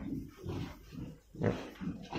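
Pigs on a household farm grunting and snorting close by, a few rough bursts rising and falling over about two seconds, with no talk.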